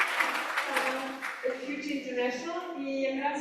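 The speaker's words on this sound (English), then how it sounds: "So would you kindly give your round of applause to him?" Conference audience clapping, a brief burst of applause that fades within a couple of seconds as a voice begins talking over it.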